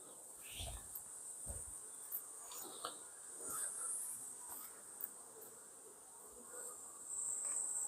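Honeybees buzz faintly and steadily around a native Korean beehive, with a few soft low thumps near the start and no talking.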